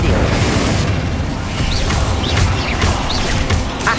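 Continuous roaring, crackling fire spell effects in Hogwarts Legacy, dense and loud throughout with repeated whooshing bursts layered over a busy combat soundscape.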